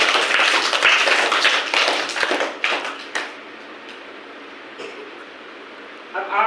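Children in a classroom clap together in a dense burst of applause that fades after about three seconds, followed by a few scattered claps and a quiet room.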